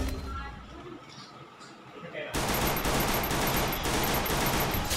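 Dense, continuous video-game gunfire rattles loudly and suddenly takes over halfway through, after a quieter stretch of game noise under excited talk.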